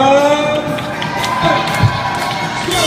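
A lively crowd cheers and shouts continuously, with high children's voices mixed into the noisy roar.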